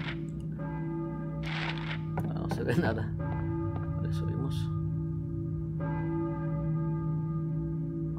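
A church bell tolls in the survival horror game Silent Hill, its ringing partials sustained over a steady low hum while someone talks briefly in the foreground.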